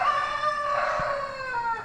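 A rooster crows one long, drawn-out call, loud and fairly close, with no other sounds around it, in Mazunte on the coast of Oaxaca, Mexico.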